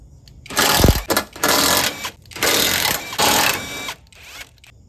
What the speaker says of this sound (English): take off these 4 nuts here that keep the strut locked into this piece of the frame here. So we're gonna go ahead and loosen those up now